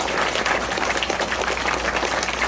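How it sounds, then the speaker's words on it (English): Applause at a Cambodian community anniversary dinner in Long Beach, a dense, steady wash of clapping from a seated crowd that fills the room for a couple of seconds. "That deserves a round of applause right there"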